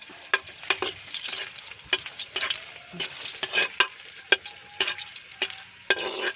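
Garlic fries in a pan over a wood fire, crackling and sizzling close up while a utensil scrapes and stirs in quick repeated strokes, with no talking.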